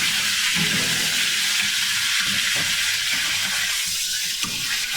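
Minced garlic frying in a pan for chicken cacciatore, a steady close crackling sizzle running for several seconds with no talk over it.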